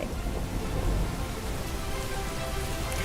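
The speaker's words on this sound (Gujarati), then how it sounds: "સુરતના પલસાણા પંથકના કડોદરા સહિતના ગામોમાં ભારે વરસાદ" Heavy rain pours over villages around Kadodara in the Palsana area of Surat district, a dense, steady wash of hiss and patter that stays even and loud throughout with no pauses.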